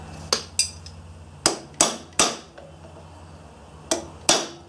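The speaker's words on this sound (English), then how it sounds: "Let's give it a little love tap here and see." Seven sharp metallic hammer taps on a part of a Coleman generator, spaced irregularly with short pauses between them, each a bright ringing strike that decays quickly, close and fairly loud against a low steady hum.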